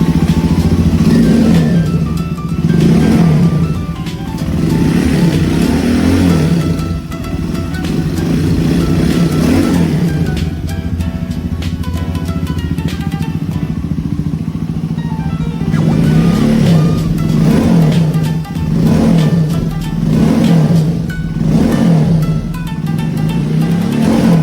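A Honda CRF150L motorcycle bored up from 150cc to 200cc with a 66mm piston revs repeatedly up and down in a steady series of loud, close throttle blips over a continuous idle, with no talk.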